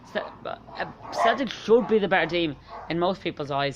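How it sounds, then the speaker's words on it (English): Dogs bark and yip intermittently in the background while someone talks continuously over them about football. "I'm sorry about the dogs barking"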